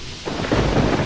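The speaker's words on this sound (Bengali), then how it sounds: "বৃষ্টি তখনও সমানে পড়ে চলেছে।" Heavy rain falling with thunder, a dense wash of rain noise that swells into a deep rumbling roll over about a second, loud and with no voices.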